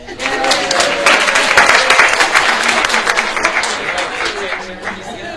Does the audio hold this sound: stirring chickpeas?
no